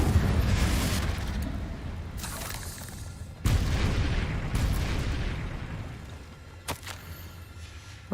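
Confringo fire spells blast in Hogwarts Legacy: several heavy, booming bursts with crackling tails, each fading into a lingering rumble, one following another over a few seconds.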